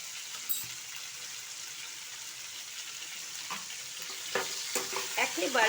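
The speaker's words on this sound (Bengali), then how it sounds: "এই দেখুন আমার এগুলো ভাজা হয়ে আসছে।" Vegetables fry and are stirred in a pan with salt and turmeric for cauliflower curry, giving a steady close sizzle with a few louder scrapes and clinks toward the end.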